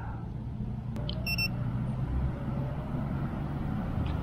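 A drone beacon buzzer gives a quick burst of short, high-pitched electronic beeps over a steady rumble of nearby street traffic.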